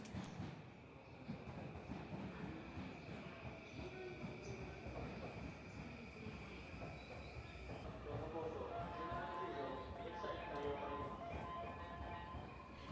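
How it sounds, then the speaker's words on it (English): A green Yamanote Line train pulls into Tokyo Station with a steady rumble and rolling wheel noise, then slows as brakes hiss and squeal. Station chatter and tones sound faintly underneath. "And here it comes, the iconic green Yamanote Line train."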